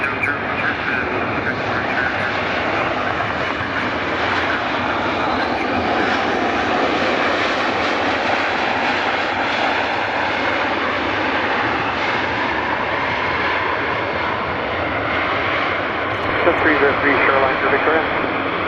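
A jet airliner's engines roar steadily at a runway at Vancouver's YVR airport during takeoff, a broad continuous rumble that stays loud and even throughout, with faint radio chatter mixed in.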